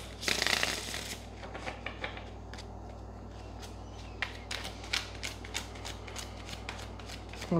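Close, crisp riffling of a tarot deck being shuffled, starting with a loud burst and followed by a series of quick light flicks and taps.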